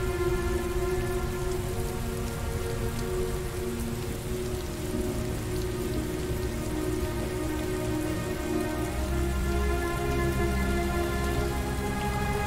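Steady rain patters on surfaces without pause in the video game Heavy Rain, a dense continuous hiss with a low rumble underneath.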